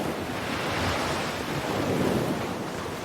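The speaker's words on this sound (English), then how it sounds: "They saw the vast thundering ocean." Vast ocean waves surge and crash in a steady, broad roar, mixed with gusting wind noise across the microphone, loud and continuous with no voices.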